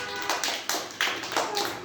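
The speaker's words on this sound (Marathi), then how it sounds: "वाजवा टाळ्या।" A group of children claps in a few loose, uneven bursts, each a short flurry of hand claps about half a second apart, fairly close and clear.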